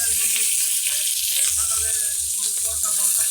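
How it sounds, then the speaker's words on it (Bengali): Prawns that were lightly fried earlier go back into a pan for a second, fuller frying, giving a steady bright sizzle throughout with a low hum and faint voice-like tones underneath. "এবারে আর একটু ভালো করে আমি ভেজে নেব।"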